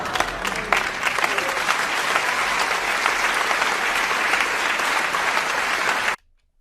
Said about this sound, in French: Et les gens applaudissent.